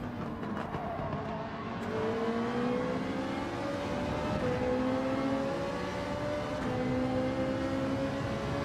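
Engine of a Volkswagen Scirocco race car in Gran Turismo 7, a loud steady drone with rising revs through successive gear changes, other cars faintly in the mix.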